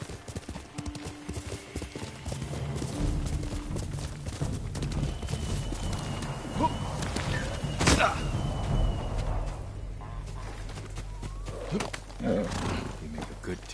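Horse hooves clip-clop at a steady riding pace in the video game Ghost of Tsushima. The hoofbeats run close and continuous beneath a busy layer of game ambience.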